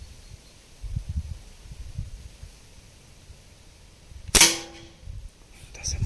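A single sharp crack from an air rifle, a Gamo Speedster IGT or Crosman TR77, rings out close and loud, followed by a brief fading tail amid quiet outdoor background.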